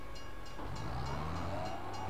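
A train passes by in the farming video game Farming Simulator 22, giving off a steady rumbling and clattering hum of rail cars at moderate volume with no voices over it.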